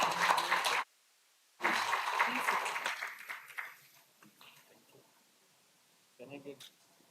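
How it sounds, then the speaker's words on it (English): Audience applause welcoming the chief guest on stage at an academic programme: a dense burst of clapping, a short pause, then a second louder round that tapers off, with brief talk near the end. "A huge round of applause,"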